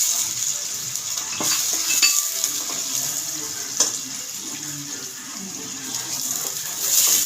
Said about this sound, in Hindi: अब हम इसमें प्याज डालेंगे और इस प्याज को जो है हम ब्राउन करेंगे।